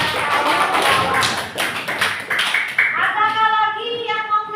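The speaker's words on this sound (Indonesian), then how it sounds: "Nah, tepuk tangan untuk kelompok posisi dan kawan-kawan." A classroom of students claps for a student group, a loud close burst of many hands at first that thins into scattered claps, with voices sounding at the end.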